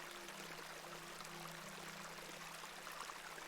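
A small stream (beck) in the horror game The Excavation of Hobs Barrow flows with a soft, continuous trickling wash, faint and steady throughout with no voices.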